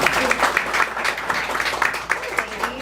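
A dinner audience at Joanne Trattoria applauds sommelier Annie Shapiro, a dense patter of many hands clapping at moderate distance, continuous for a few seconds with some chatter mixed in.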